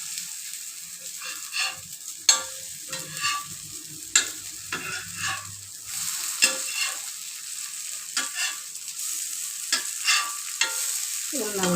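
Kara kuzhi paniyaram frying in oil in a paniyaram pan while being turned over, with steady soft sizzling and a series of sharp metallic clicks and scrapes from the turning tool, close and fairly loud, no talking.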